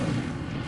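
An Incendio fire spell cast in Hogwarts Legacy: a short, low whooshing burst of flame, fairly quiet and heard alone.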